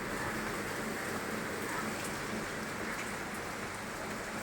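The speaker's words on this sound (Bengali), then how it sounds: "ওই জন্য বারান্দায় দাঁড়িয়ে দাঁড়িয়ে বৃষ্টি দেখছি।" Rain pours steadily outside a balcony under dark thunderclouds, a dense, even hiss of drops hitting surfaces that stays constant and soft throughout, with no voices.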